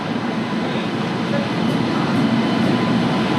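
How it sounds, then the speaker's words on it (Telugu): A train pulling into a railway station platform, a loud steady rumble of rolling wagons filling the whole stretch, with a faint murmur of voices in the background. "ఇప్పుడు వచ్చింది మొత్తానికి ట్రైన్"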